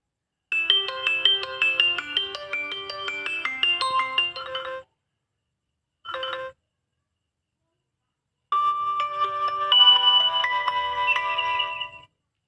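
A Redmi 4A phone plays its ringtone through a faulty buzzer speaker. The melody runs loud for about four seconds, then a short burst follows, then it starts again after a gap, close up, with no talking.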